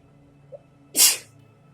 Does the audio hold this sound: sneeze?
yes